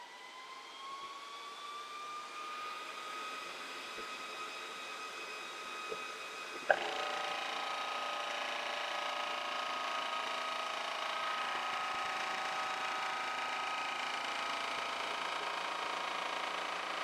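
A VEVOR two-cylinder PCP air compressor rated to 4500 psi starts up with a rising whine, then settles into a steady, loud mechanical drone after a sharp click, running continuously with no talking.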